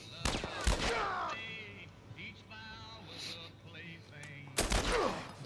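Gunfire in the video game The Last of Us Part I: loud sharp shots burst at the start and again near the end, with quieter game sounds between and players talking over it.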